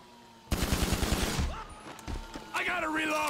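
A gun in GTA V fires a rapid burst of shots close and loud for about a second, then scattered single reports follow. Brief voices break in near the end.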